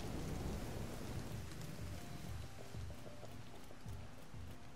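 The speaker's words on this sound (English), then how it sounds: "Nice, we're out of the rain." Steady rain falling in Tom Clancy's The Division 2, a constant soft hiss of drops on surfaces with low rumbling underneath and faint tonal game sounds drifting over it, no talk.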